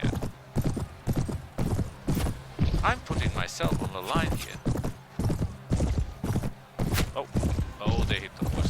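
Horse hooves clip-clopping in a rapid, even rhythm within a Mount & Blade medieval battle, close and loud, with a brief whinny and someone talking over the hoofbeats.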